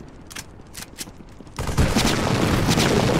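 Gunfire in the Roblox game Delta Ring, starting with a few sharp separate shots and then breaking into dense, continuous rapid fire that stays loud to the end.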